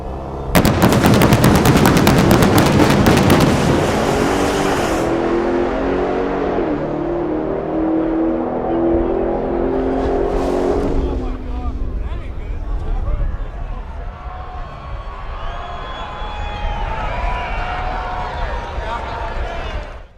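A 2023 Dodge Demon 170 drag car launches with a loud, explosive crackling roar that eases into a sustained, rising engine drone and then a higher whine as it pulls away.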